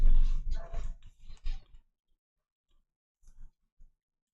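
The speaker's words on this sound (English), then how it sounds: "those are some like angry dogs" Angry dogs bark and growl in a string of loud, rough bursts for about two seconds, then fall quiet before a few fainter, shorter barks follow.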